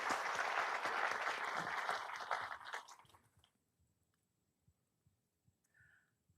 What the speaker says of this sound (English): Another round of applause for the team.